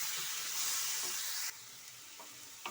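Raw plantain pieces frying with chili powder in a hot pan give a steady, close sizzling hiss, which drops to a softer sizzle partway through, with a few faint stirring scrapes.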